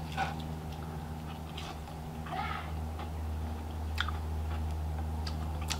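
Bites and chewing of breaded fried fantail shrimp squeezed with lemon, soft crisp crunches and ticks close up over a steady low hum, with no talking.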